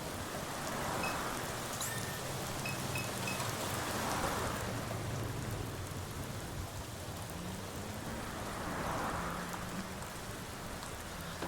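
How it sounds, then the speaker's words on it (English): Steady, heavy rain in a video game hisses continuously, dense and close, with a low rumble underneath and no voices. "Downpour finds its way into the drainage canal and the water level slowly rising"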